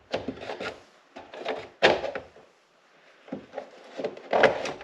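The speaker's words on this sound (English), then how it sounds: "airbox bottom going in." Plastic airbox bottom being fitted into the engine bay of a BMW E83 X3 with an M54 engine, a series of close scraping, rubbing and knocking sounds in short bursts with a quiet pause midway, no talk.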